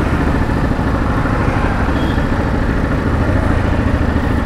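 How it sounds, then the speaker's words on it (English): A Ducati DesertX Rally adventure motorcycle's engine idles right up close, a loud, steady, throbbing rumble with no talking over it. "let's switch this thing on. This is stunning, beautiful Ducati DesertX Rally"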